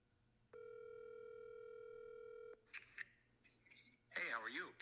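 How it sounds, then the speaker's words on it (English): A steady telephone tone holds for about two seconds on a call, then cuts off, followed by a few short beeps and clicks, and then a voice begins speaking nearby. "You know what? I'm going to call Chris."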